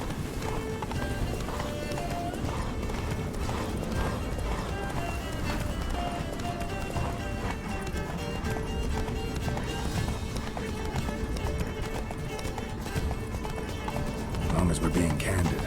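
Roach the horse gallops at full speed in The Witcher 3, a steady rapid drum of hooves that runs without pause beneath dense game sound and music, with voices talking over it.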